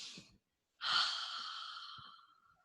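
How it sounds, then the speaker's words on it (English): A deep breath drawn in and slowly let out during a seated chair yoga session, a single soft, airy inhale followed by a long, fading exhale, close and quiet with no talking. "Let's take one more deep breath."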